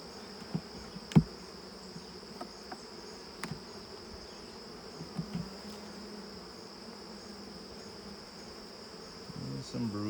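Honeybees buzz steadily around an open hive during an inspection, a soft continuous drone with occasional louder passes as single bees fly close to the listener.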